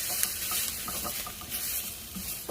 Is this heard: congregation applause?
no